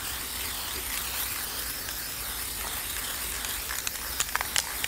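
A steady aerosol spray of gold spray paint hisses continuously onto a hard surface, close and even, with a few faint clicks near the end.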